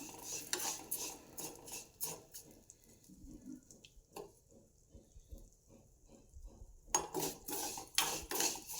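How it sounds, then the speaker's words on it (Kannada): Vermicelli frying in ghee in a pan is stirred with a metal spoon, giving clinking scrapes against the pan in uneven bursts over a soft, faint sizzle, close by, with no talking. "ಅದೇ ತುಪ್ಪದಲ್ಲಿ ಶಾವಿಗೆ ಹಾಕ್ಕೊಂಡಿದ್ವಲ್ಲ, ಅದನ್ನು ನೀಟಾಗಿ ಗೋಲ್ಡನ್ ಬ್ರೌನ್ ಬರೋವರೆಗೂ ಫ್ರೈ ಮಾಡಬೇಕು ನಾವು"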